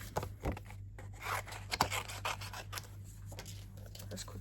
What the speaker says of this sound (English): I'm going to quickly fussy cut those